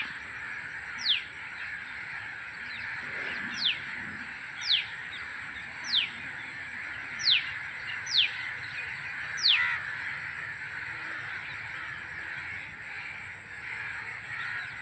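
Crows gathering around a dead crow, several loud harsh caws spaced every second or so against a steady high-pitched insect drone, quieter after the last caw.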